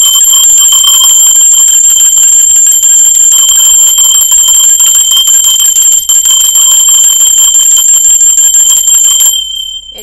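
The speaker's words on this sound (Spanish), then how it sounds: "Va campana con el ruido de la pulsera de Clara del Oriente." A bright, sustained bell rings loudly and continuously with a shimmering metallic tone, then cuts off abruptly just before the end.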